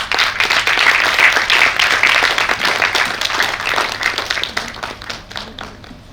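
An audience at an event gives participants a sustained round of clapping, a dense, fairly loud patter of many hands that holds steady and then gradually thins out toward the end.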